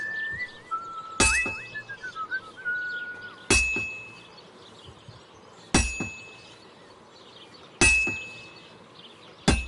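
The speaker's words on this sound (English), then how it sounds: "You've got to hammer the workpiece evenly. One hit next to the other." A hammer rings against a sword workpiece on an anvil in a medieval smithy in Kingdom Come Deliverance 2, with four loud metallic clangs spaced about two seconds apart and ringing tails after each, plus bird chirps in the background.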